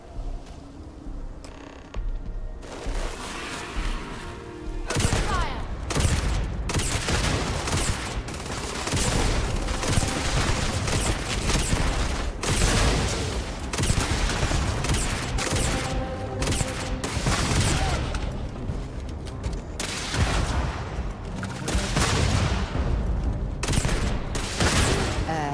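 Heavy, sustained gunfire in Starfield, with dense overlapping shots and booms that go on for over twenty seconds at a steady, loud level after a short quieter start.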